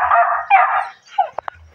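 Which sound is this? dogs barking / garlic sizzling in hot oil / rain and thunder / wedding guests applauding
dogs barking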